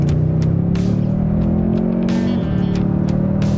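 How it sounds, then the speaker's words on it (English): A 2024 Toyota Tundra Limited CrewMax's turbocharged hybrid V6 revs with a steady, loud, beefy growl that rises in pitch and then eases, with faint clicks over it and no talking. "this V6 engine, listen to that growl"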